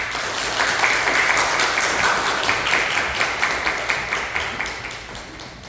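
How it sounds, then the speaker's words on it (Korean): A church congregation at a Sunday worship service applauds to welcome a speaker: dense, steady clapping fills the whole stretch, close and full, easing slightly toward the end. "우리 나오실 때 따뜻하게 박수로 환영해 주시면 고맙겠습니다."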